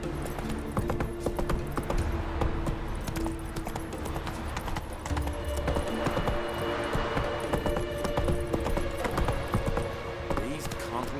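A horse gallops in The Witcher 3, hooves clip-clopping in a fast continuous rhythm close by, with character voices talking over the game sound.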